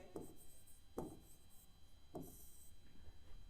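Chalk or marker strokes on a classroom board, three short scratchy bursts with quiet gaps between, faint and close.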